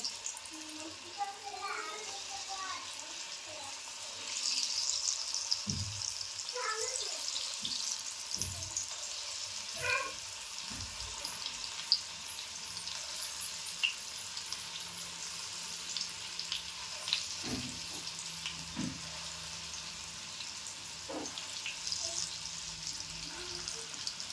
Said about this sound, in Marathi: तेल पण तापलं आहे आता आता मी भजी अशी छोटी छोटी सोडून घेते